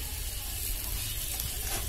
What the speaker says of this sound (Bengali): তো আলুটা যে পেঁয়াজটা বাদামি কালার হয়ে গেছে আমি একসাথে মিশিয়ে নিচ্ছি